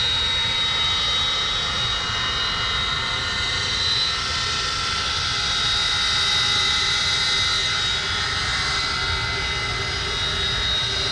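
Avro Vulcan XL426 jet bomber engines running during a taxi run, a loud, steady broadband roar with a high whine that holds throughout, no voices.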